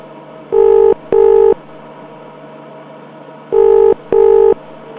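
A telephone ringback tone calling a landline sounds twice in paired bursts, two short rings, a pause, then two more, clear and steady over faint line hiss.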